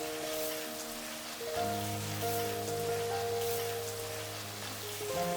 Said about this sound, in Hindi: अब हमने इस मसाले को 2 से 3 मिनट के लिए थोड़ा सा और भून लेना है